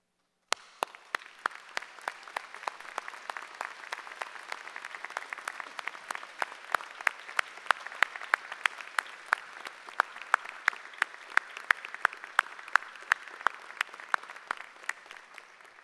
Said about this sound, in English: I want to begin by asking our students to stand and applaud them for the love and